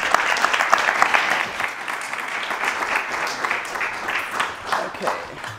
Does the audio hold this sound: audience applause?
yes